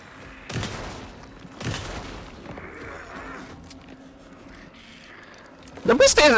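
Gunshots in the video game Alan Wake 2, a few sharp isolated blasts spaced apart over a quiet backdrop, with a louder burst of noisy action near the end.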